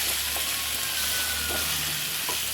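Chili powder is stirred into a dried-fish tamarind curry (endu chepala pulusu) as it fries in a pan: a continuous close sizzle with a few soft scraping stirs and no talk.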